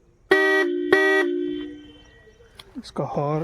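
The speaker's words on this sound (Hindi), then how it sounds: "इसका हॉर्न अगर आपको सुनना हो, बहुत ज़्यादा लाउड है, जो कि कुछ ऐसे बजता है।" A loud vehicle horn blares twice in quick succession, then a sustained tone fades, followed by brief faint noises and a voice.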